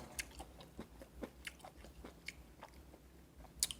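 Close, crisp crunching bites and chewing, a quick irregular series of crackly mouth sounds against a quiet background.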